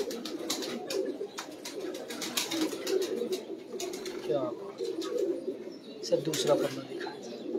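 Domestic fancy pigeons, including ones kept as 'tiger' and bell-feathered birds, coo in repeated low throbbing phrases close by, with a voice talking over them at times.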